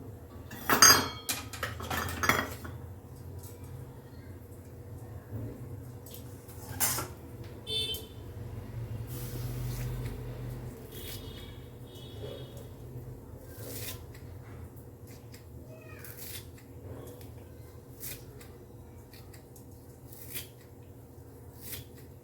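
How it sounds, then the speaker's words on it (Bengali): A knife chops fresh coriander leaves on a board in a home kitchen, scattered sharp taps and clinks against utensils spread across a long, fairly quiet stretch with pauses between bursts. "এবার আমি এর মধ্যে ধনেপাতাটা কুচিয়ে দেবো।"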